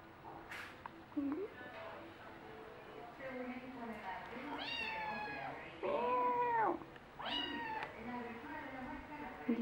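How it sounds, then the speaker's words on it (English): A cat meows several times, drawn-out and fairly close, with short pauses between the calls over a quiet background. "This is my kitty."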